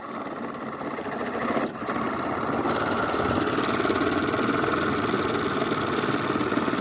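The small electric motor of a cheap toy-grade RC car buzzes steadily with a whiny, sewing-machine-like drone, close and continuous throughout.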